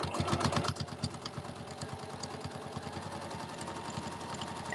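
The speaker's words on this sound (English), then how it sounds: "I'll try and sew down the same line." A sewing machine stitches a raggy quilt, giving a quiet, rapid, even run of mechanical needle ticks close by, slightly louder at the start.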